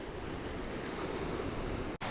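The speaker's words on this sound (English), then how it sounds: "I think the tide has come in a little bit because I don't think the sea was that close on my way there" Sea waves washing onto a beach below cliffs at high tide in Filey, North Yorkshire, a steady broadband surf roar with wind buffeting the microphone and a brief dropout near the end.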